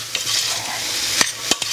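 Pumpkin stuffing stirred in a pan over low heat: a soft, even sizzle with a few quick scraping strokes of a utensil near the end, close and alone.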